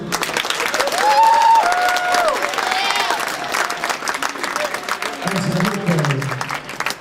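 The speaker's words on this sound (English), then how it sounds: "Y'all clap for him." A crowd claps and cheers in a broad wash of applause, with tonal sounds and a voice briefly audible within it, fading toward the end.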